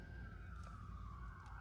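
A siren from an emergency vehicle or ambulance driving past outdoors, heard as one steady wailing tone that slowly falls in pitch, moderately distant over continuous background rumble.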